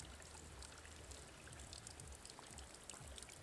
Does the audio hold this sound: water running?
yes